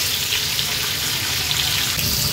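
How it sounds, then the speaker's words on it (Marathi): Pomfret coated in semolina fries on high flame, giving a loud, steady, dense hiss that runs unbroken from start to finish, with no talking. "हाय फ्लेमवर अर्ध्या मिनिटासाठी अशीच ही पापलेट ठेवायची आहेत"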